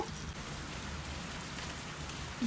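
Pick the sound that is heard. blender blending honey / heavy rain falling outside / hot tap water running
heavy rain falling outside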